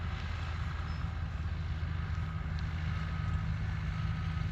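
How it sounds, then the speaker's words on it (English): A John Deere 6125 tractor with a continuously variable transmission runs in a hayfield. Its engine gives a low, even drone that stays fairly quiet throughout. "So you may even be able to hear the engine there running"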